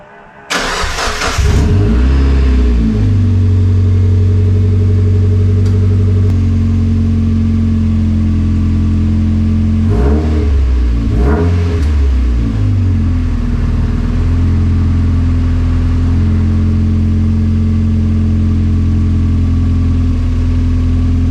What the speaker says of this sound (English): hear what my car sounds like straight piped